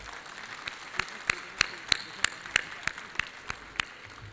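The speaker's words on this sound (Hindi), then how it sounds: "दिल्ली वन इंडिया वन के लिए जोरदार तालियां" Claps ring out at a corporate LIC event, spaced at a slow, steady rhythm over a soft, constant background murmur. The hall sounds reverberant and the sound is moderately near.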